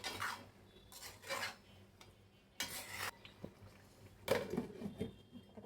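Metal clatter of a lid going onto a cooking pot while making shahi chicken pulao, several short clanks and scrapes in separate bursts, close and moderately loud, with faint kitchen background between them.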